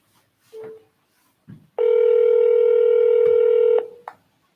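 A telephone dialing out to return a call: a couple of short key tones, then one long steady beep of about two seconds, then a brief blip, close and clear with no talking.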